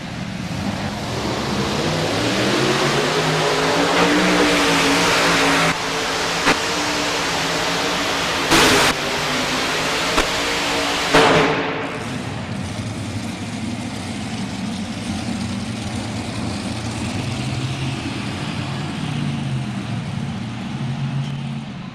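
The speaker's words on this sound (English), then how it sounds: "here comes that Predator tractor" A modified pulling tractor called the Predator roars at a loud, steady drone with rising and falling harmonics, sharp clanks and bangs around the middle, then a broader rumbling wash as it pulls away at a tractor pull.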